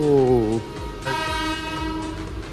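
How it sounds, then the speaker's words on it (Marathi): A train stands at the station, its horn sounding in sustained tonal blasts that shift in pitch, over rumbling rail noise and nearby voices. "खाली ट्रेन लागली आहे"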